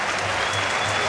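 A rugby stadium crowd applauds an injured player in a steady, dense wash of clapping that fills the whole moment without letup.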